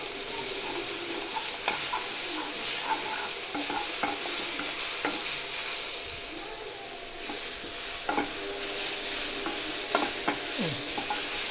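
Tomatoes for a green peas curry frying in a pan, cooked with salt and turmeric until browned, a continuous close sizzle broken by repeated light clicks and scrapes of stirring, no voices.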